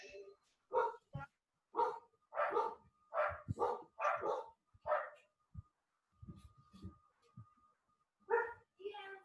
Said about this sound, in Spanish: estos perros míos también me van a enloquecer